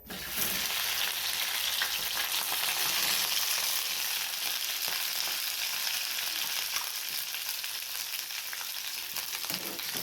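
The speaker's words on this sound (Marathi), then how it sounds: "ही आपण कट करून घेतलेली भेंडी आहे, ही घालूयात." Cut okra dropped into hot oil with roasted cumin seeds, a loud, steady, dense sizzle and crackle that holds close and constant throughout.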